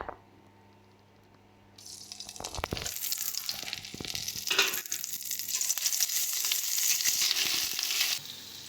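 Ginger paste sizzles and fries loudly in a hot pan while making Kashmiri aloo dum. It starts with a quiet, brief lead-in, then a strong steady hiss with occasional stirring scrapes.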